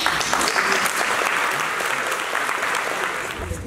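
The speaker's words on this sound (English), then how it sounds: "Let's give them a round of applause." Sustained applause from an audience at a school athletic banquet, many hands clapping steadily, loud and fairly close, slowly tapering off toward the end.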